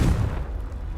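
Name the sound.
Confringo explosive spell cast in video game Hogwarts Legacy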